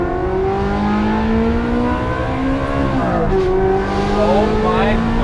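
A Ferrari fitted with an Alibaba titanium exhaust drives with the window down, its engine loud and close as it holds a steady drone, then shifts and revs rise again.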